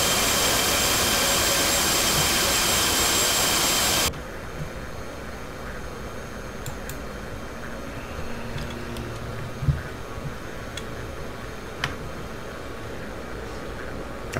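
F/A-18C Hornet jet engine in the DCS flight simulator, a loud roaring rush that cuts off abruptly to a quieter steady engine whine with occasional faint clicks and thumps.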